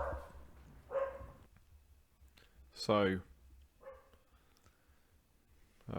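A dog barks indoors after a doorbell during a home podcast recording, a few sharp close barks and yips scattered among clicks and a man's speech.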